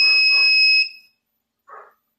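An ESR meter in continuity mode sounds a loud, steady electronic beep for nearly a second. After a short gap there is a faint brief burst of noise.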